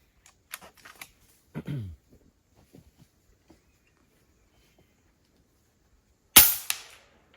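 A single sharp FX airgun shot fired at a 50 m target cracks out loud and close near the end, preceded by faint handling clicks and rustles in an otherwise quiet outdoor setting.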